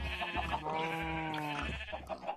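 Minecraft cow mooing in a long, low, drawn-out call with strong harmonics, rising and falling across a couple of seconds, fairly close, with game sounds faintly around it.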